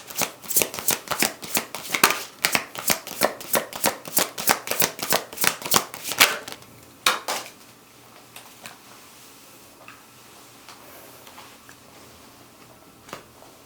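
Tarot cards being shuffled by hand in a fast, even run of crisp riffling slaps that stops after about six seconds, followed by a few scattered soft taps and card handling.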